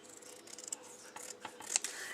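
Scissors cut through two rows of craft material for a Christmas decoration, giving a few quiet, crisp snips close up with brief pauses between them.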